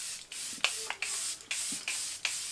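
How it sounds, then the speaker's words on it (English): Several quick hissing bursts of Charlotte Tilbury Airbrush Flawless setting spray, about six short pumps in a loose rhythm, close and fairly soft with no talking. "today I'm going to use setting spray"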